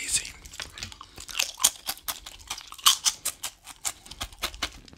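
Fruity Pebbles crisps crunch loudly in close-up bites and chewing, a rapid irregular series of crisp crackles and snaps, with a faint whisper at times.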